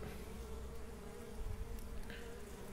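Honey bees swarm around an opened beehive during a spring hive inspection near Burgas, making a dense, steady buzzing drone that fills the air close by, with no talking.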